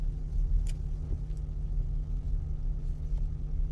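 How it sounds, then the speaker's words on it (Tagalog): A car cruises smoothly with steady, gentle acceleration, its engine giving a continuous low rumble from inside the cabin and no jolts or surges, with nobody speaking. "Pati yung pag-apak ng accelerator o gasolinador, ano rin, smooth na smooth din."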